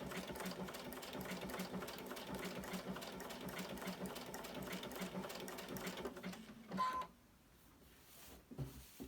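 A sewing machine stitches embroidery with regular thread on scrap fabric, a fast steady mechanical chatter for several seconds, then a brief beep and stop with a short final burst.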